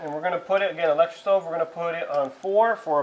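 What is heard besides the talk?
No everyday noises stand out.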